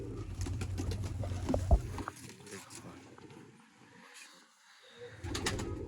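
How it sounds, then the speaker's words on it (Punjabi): Kitabi breeder pigeons coo in low, throaty bursts close by, with someone talking over them and a quieter stretch before the cooing and chatter resume. "ਦੇਖੋ ਜੀ ਕਿਤਾਬੀ ਕਬੂਤਰ"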